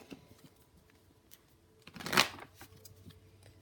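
Tarot cards are handled quietly, with faint ticks and a single brief riffling burst of shuffling in the middle, all close and soft.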